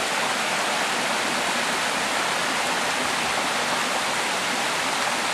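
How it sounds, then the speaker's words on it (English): A waterfall on the Kumano Kodo trail in Japan roars steadily and loudly, a dense continuous rush of falling water with no voices over it. "this is the last one I promise of this waterfall"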